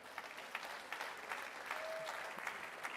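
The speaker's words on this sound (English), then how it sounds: "can we get a huge round of applause again for our wonderful guests?" A small audience at a game industry podcast panel claps for the guests, a faint, steady patter of hands that lasts the whole time.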